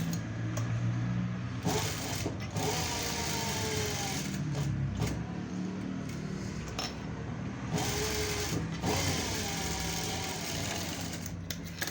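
A sewing machine stitches a boat-neck blouse in steady, continuous runs of rapid mechanical whirring, close and fairly loud, briefly changing pace between bursts, with no talking.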